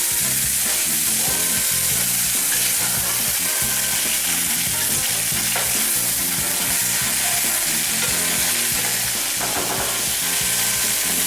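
Porcini risotto rice cooking in a pan as stock is added by the ladle, a dense steady bubbling sizzle with faint stirring scrapes, loud and continuous.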